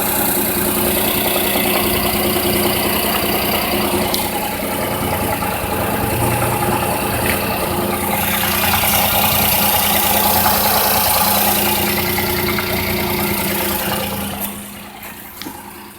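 A 1995 Daihatsu Hijet all-mode 4WD mini-truck engine idles steadily and close by for the whole stretch, a continuous mid-pitched hum with faint knocking texture, easing off slightly at the end; no talking.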